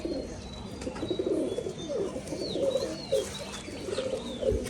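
Pigeons coo steadily at a colour-matching pigeon farm in Rajshahi, a dense low murmur of overlapping calls from many birds close by, with a few higher chirps on top and no talking.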